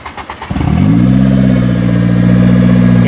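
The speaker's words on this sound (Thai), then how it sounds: "รถคันนี้โอเคติดเครื่องเลยครับ" A big truck fitted with a twin 25,000 lb winch cranks and fires up, then settles into a loud, steady diesel idle close by.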